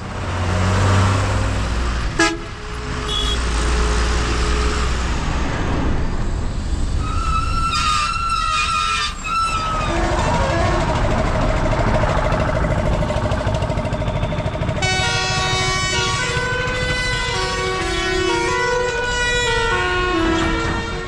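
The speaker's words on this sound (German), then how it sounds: "das Einzige, was wir wahrnehmen, sind Motorengeräusche und Hupen" Dense street traffic in Nepal rumbles continuously while car horns honk repeatedly, with a siren-like wail rising and falling through the noise.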